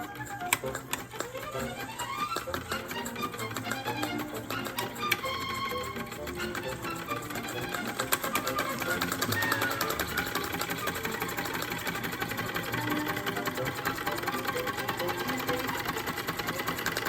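A small model steam engine kit fitted with a generator runs at speed, giving a fast, steady mechanical clatter and rapid ticking that stays continuous and close, rising slightly in loudness partway through.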